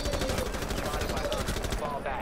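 Rapid automatic gunfire in a shooter video game during a squad match, a dense, loud burst of fast shots filling the whole stretch, with voices underneath.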